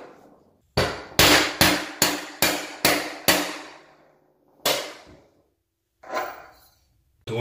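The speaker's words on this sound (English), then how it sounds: "I'm going to take my hammer and I'm just going to bang it up top." Sharp metallic hammer strikes on a tub drain removal tool ring out in a quick series of about six, then two more isolated blows after pauses, each with a short ringing decay.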